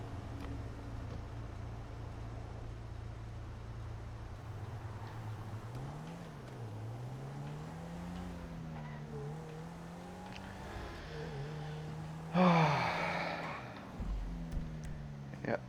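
A car engine in the video game GTA Online drones and shifts pitch as the car drives, with a sharp louder burst like a tire squeal near the end.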